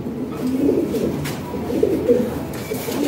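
A pair of red Lahori pigeons cooing close by: low, throaty, rolling coos repeated in a few short phrases.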